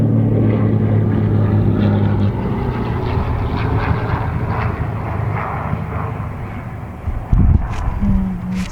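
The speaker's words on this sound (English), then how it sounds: "Sweet little airplane flying overhead." Small propeller airplane passing overhead, a steady broad engine drone heard continuously, fairly loud and unbroken, with no talking.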